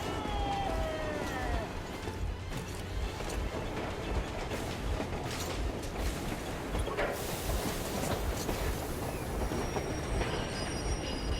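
Train in the Metro Exodus video game braking hard after the stop lever is pulled, with loud sustained wheel squeal over a steady rumbling rail roar that continues throughout.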